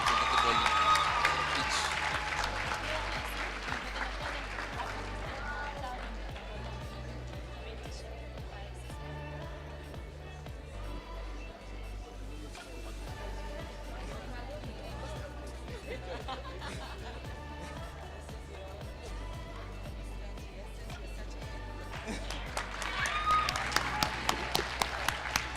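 Audience applause for award winners at a national ICT summit ceremony, steady crowd clapping with some laughter running throughout, swelling louder near the end, over a low hum.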